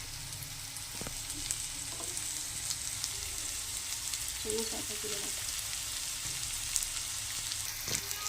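Potatoes and onions frying with ginger, cumin and garlic paste, a steady close sizzle with occasional spoon scrapes and clinks against the pan, no one speaking.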